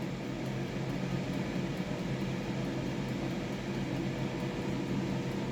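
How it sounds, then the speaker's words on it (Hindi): A microwave oven runs with a steady, even mechanical hum and low drone, continuous and unchanging throughout, close by. "दूसरे को भी 1 मिनट के लिए माइक्रोवेव कर लिया"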